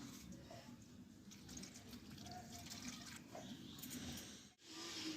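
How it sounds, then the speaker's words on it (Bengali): Market-bought drumstick stalks are rinsed under steady running water, a faint, continuous broadband wash with a brief dip near the end. "আমি একটু জল দিয়ে ভালোভাবে একটু ধুয়ে নেব"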